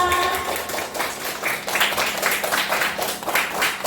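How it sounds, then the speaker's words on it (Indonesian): Classroom pupils clap after a lesson on plant reproduction, a scattered patter of hand claps with louder bursts, steady for a few seconds at moderate loudness, with faint voices mixed in. "Tepuk tangan untuk kita semua."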